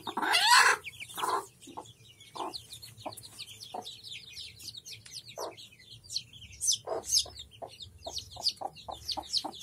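A hen clucks in short repeated bursts while high, thin peeps from her seven newly hatched chicks chirp continuously around her, close by with no talking.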